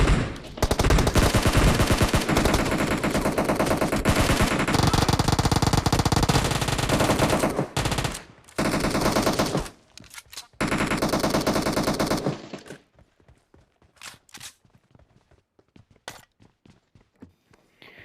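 Battle royale video game gunfire: long, loud sustained bursts of rapid automatic fire with short gaps, then scattered single shots and light footstep-like clicks trailing off in the last few seconds.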